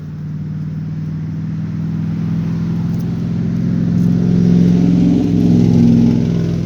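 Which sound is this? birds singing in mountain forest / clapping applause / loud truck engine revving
loud truck engine revving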